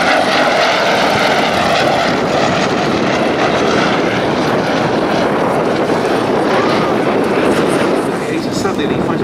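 Bristol Blenheim light bomber engines drone steadily in flight at a Duxford air show, a loud continuous piston-engine roar with a wavering tone that holds throughout.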